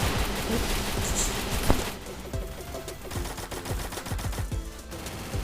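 Gunfire in the mobile shooter game Free Fire rings out as rapid bursts of sharp shots and volleys, some in quick automatic strings, with no talk over them.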